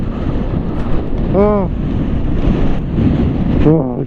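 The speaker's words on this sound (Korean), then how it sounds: "바람 이런 거 처음인데." Strong, gusting wind at a motorcycle campsite roars steadily across the whole span, buffeting the microphone, while people speak briefly over it.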